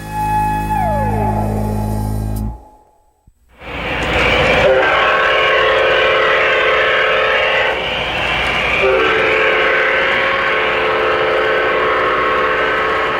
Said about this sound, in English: That's the unbelievably realistic sound of the MTH Proto-Sound system